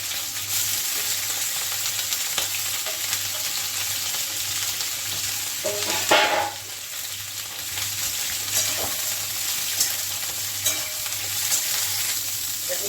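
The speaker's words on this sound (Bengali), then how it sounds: "কপিগুলোকে আমি ভেজে দিচ্ছি।" Cauliflower florets frying in a pan are stirred over a steady, loud sizzle, with occasional scrapes and a brief louder stir near the middle, close and continuous.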